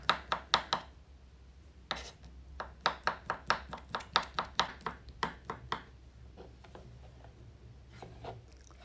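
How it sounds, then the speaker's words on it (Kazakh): Quick knife chops on a cutting board cutting boiled sausage into thin strips, a burst of rapid strokes, a pause, then another steady run of taps fading into softer, scattered cuts. "Енді вареный колбасаны да солай кішкентай соломка етіп тураймыз."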